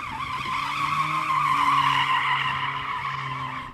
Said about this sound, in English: that Mercedes has a very clever drift mode where it can somehow slide even though it's a 4-wheel drive car